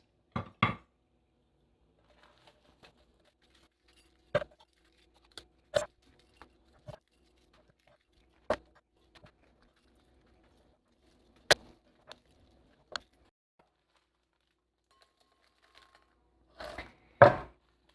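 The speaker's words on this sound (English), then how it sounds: "I'm going to start off by cutting off the stems and shaking out the seeds" A knife snips the stems off about a dozen dried chilies of mixed types, with seeds then shaken out, giving sparse sharp cuts and clicks against a board in near silence.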